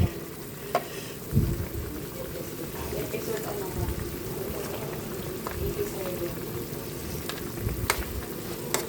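Pork adobo with egg drying out in a pan, a steady low sizzle and bubble broken by occasional scrapes and clacks of stirring, close and moderately loud.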